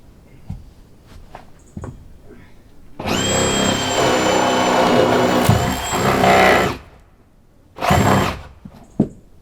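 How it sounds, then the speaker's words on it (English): A reciprocating saw cuts through cabin wall sheathing in two loud, buzzing bursts, a long one of about four seconds and a shorter one soon after, with faint knocks in the quiet gaps. "Reciprocating saw."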